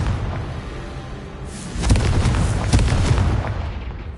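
A Confringo spell explosion in a video game: after a quiet stretch, a broad booming blast bursts in and rumbles on loudly with a few heavy crackling hits before slowly fading.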